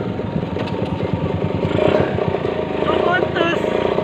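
A motorcycle engine, either a Kawasaki Ninja or a Yamaha R15 in a start test, turns over with a rapid, pulsing chug. It sounds loud and close, with people talking over it throughout.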